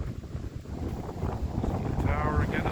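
Wind buffeting a handheld microphone outdoors on a cold, heavy-wind day, low rumbling gusts that swell and thump unevenly, with a faint voice and a brief higher whine partway through.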